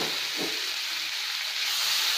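Grated carrot sizzles in ghee in a pan for carrot halwa, a steady hissing fry with a brief stirring scrape near the start, close and moderately quiet.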